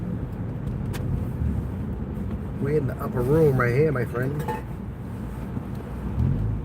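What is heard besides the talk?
road traffic near the George Washington Bridge, New York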